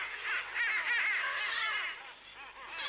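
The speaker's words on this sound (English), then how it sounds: "She loses herself when she hears the birds making noise like this." Birds in an animated series chirp and twitter in a bright, busy chorus, fairly close and loud, with no speech over them.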